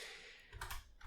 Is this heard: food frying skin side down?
no